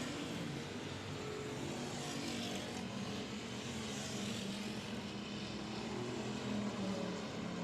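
Crate late model race cars roar around a speedway in a steady, continuous engine drone, loud and unbroken with no pauses, the pack's combined noise blending into one sustained rumble.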